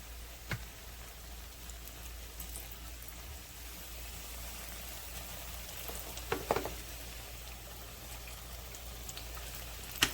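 Steady crackling sizzle of pork chops frying in hot grease, with a few sharper pops rising above the constant hiss.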